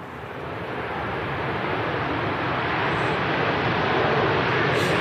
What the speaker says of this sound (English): Last arrival of the show, Ryanair 737, just touching down on 23 right.